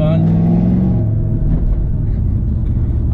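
A car's engine rumbles low and idles down as it pulls up to a house, with a brief rev and fading drone. Someone talks over the steady interior rumble.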